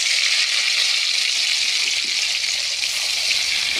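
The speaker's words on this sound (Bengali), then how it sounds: "তাহলে এখন আমি মাছ ভেজে নেব।" Puti fish coated in salt and chili frying in hot oil, a steady, loud, continuous sizzle with no pauses and no talking.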